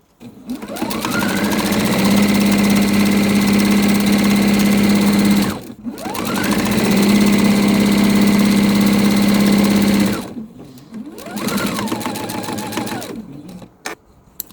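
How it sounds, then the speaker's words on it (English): A sewing machine stitches quilt fabric straight onto batting in three loud, close runs, each revving up to a steady whir. The first two are long, with brief pauses between them, and the last is shorter. "I'm just sewing straight to the batting, so nothing fancy here"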